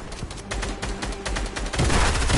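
Rapid bursts of video game gunfire crackle continuously, growing louder and denser toward the end.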